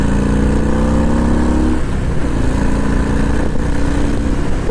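A Harley-Davidson FXDR 114 motorcycle accelerating on a ride, its engine drone climbing steadily in pitch, briefly easing around a gear change, then pulling strongly again, loud and continuous.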